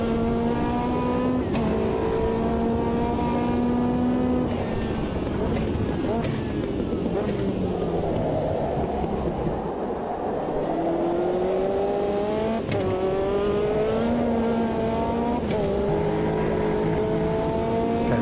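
McLaren race car in the Automobilista 2 sim racing game, its engine droning loud and continuous with pitch sweeping up through the revs and dropping at gear changes, held close throughout.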